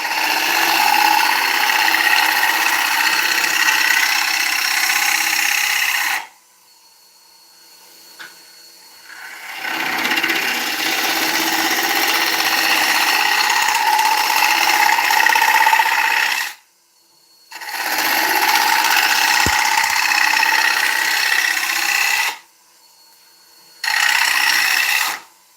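A lathe turning ash wood, with a steady loud whirring hum and the tool cutting and rubbing against the spinning wood in long sustained stretches broken by short quiet pauses.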